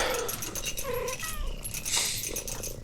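A cat meows in the Final Fantasy 16 video game, a few short mewing calls over a dense, continuous bed of game music and effects.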